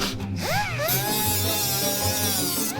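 A power tool deburrs metal on an off-road recovery Jeep. Its motor whines and rises in pitch, then holds a steady, loud, close grinding hum for the whole stretch.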